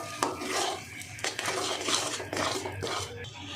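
A thick amla digestive mixture being stirred and scraped in a kadai, with a spoon grinding and clanking against the metal pan in a steady, close, fairly loud rhythm and no voice.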